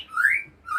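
A white-rumped shama (murai batu) at a bird kiosk gives a clear, close whistled call: one rising, warbling note, a brief pause, then a second note beginning.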